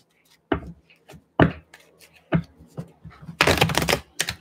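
Tarot cards shuffled by hand, a few sharp riffling slaps spaced out, then a longer dense flutter of cards near the end, close and crisp in a quiet room.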